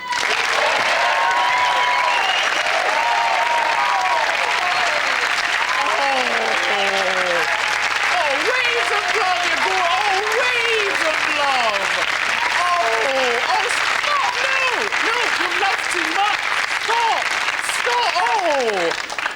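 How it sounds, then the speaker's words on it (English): A studio audience at a 1996 stand-up comedy show claps and cheers in a loud, continuous roar, with whoops and shouts rising and falling through it for the whole stretch. "it's time to start clapping and cheering once again"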